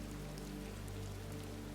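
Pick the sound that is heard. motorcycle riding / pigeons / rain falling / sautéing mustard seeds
rain falling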